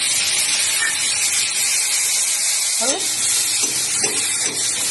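A water-thinned spice paste for a vegetarian chhana kofta curry hits a hot wok and fries with a loud, steady hiss and sizzle that stays close and continuous, while a voice comes in briefly.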